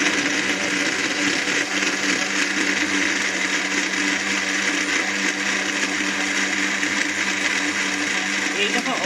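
Watermelon sharbat with ice churning in a blender, a loud, continuous motor whir with a dense, even roar that holds steady throughout.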